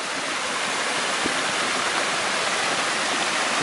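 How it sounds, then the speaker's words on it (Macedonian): Rushing mountain water from snowmelt on Baba mountain pours in a steady, dense broadband roar, loud and close, with no break across the whole stretch. "Звукът на водата,"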